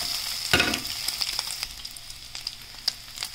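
Pork belly frying in oil as fat renders out for a bitter melon dish, a steady close sizzle with a sharp burst of spattering near the start and scattered pops after.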